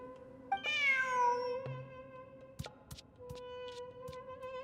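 A cat in the video game Genshin Impact meows once, a drawn-out, clear cry, followed by soft tonal background music and a few faint clicks.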